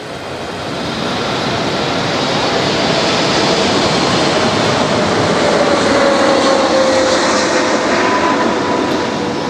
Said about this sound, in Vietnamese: thì cứ khoảng 79 giây sẽ có một chiếc máy bay bay lên hoặc bay xuống